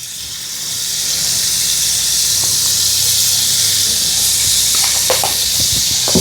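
Star margarine melting in a pan with a steady, close hiss and faint sizzle throughout, a few soft crackles and scrapes toward the end.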